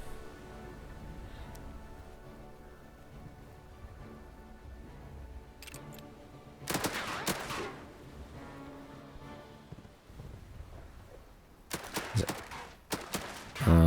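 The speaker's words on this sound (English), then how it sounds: "Oh, they're still shooting." Gunfire in the WW2 strategy game Headquarters WW2, sporadic bursts of shots over a quiet background, with a heavier volley near the middle and several sharp cracks toward the end.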